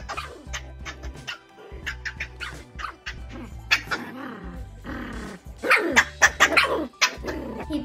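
A three-month-old chow chow puppy barks in bursts, with several sharp close yaps and playful growling between them, loudest toward the end.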